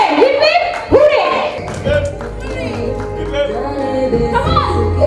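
Scattered claps from an audience at a women achievers award event break through loud talk from a host, with a few sharp taps and thuds under the voice.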